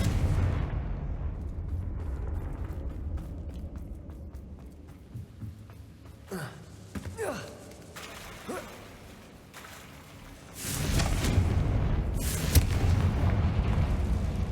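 A fiery Confringo spell explodes in the Hogwarts Legacy game, with scattered crackling bursts and pops before a loud, sustained blast and rumble in the last few seconds.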